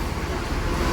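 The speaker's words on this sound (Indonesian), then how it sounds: "Bunyi ini apa? Kereta api." Train passing near a bus terminal in Bogor: a steady, loud rumbling roar of rail noise filling the whole second, with no distinct clacks, heard alone.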